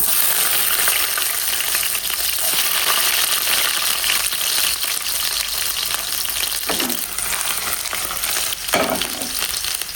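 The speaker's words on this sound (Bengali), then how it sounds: "প্রথমে কড়াইটা গরম করে কড়াইতে একটু সয়াবিন তেল দিয়ে দিয়েছি অল্প কিছু রসুন" Garlic fries in hot soybean oil in a wok with a steady, loud sizzle throughout, and a couple of brief stirring scrapes near the end.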